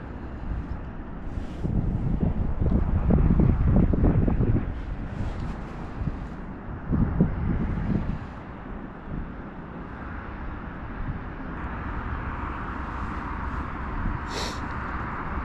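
Steady outdoor wind buffets the microphone during a bright, cold northerly day of lure fishing for bass, with louder gusts early and a continuous rushing roar throughout, no talking.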